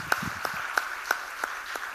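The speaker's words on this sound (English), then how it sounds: "can we have a final round of applause for all the participants," Sparse applause for participants at a coding competition finale, a handful of distinct claps at a steady rhythm, fairly close and moderately loud with no talk.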